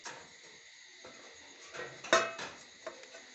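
A steel plate set over cooked alu vadi and flipped onto another plate: a few light metallic clinks and scrapes, with one sharper clatter midway, close and otherwise quiet.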